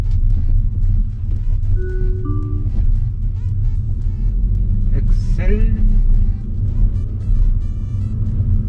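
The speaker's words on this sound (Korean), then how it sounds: "지금부터 엑셀 많이 밟아야 조금 더 쉽게 올라가겠죠" A car engine pulling under heavy throttle while climbing a hill during a driving lesson, a continuous low, close drone with voices talking over it.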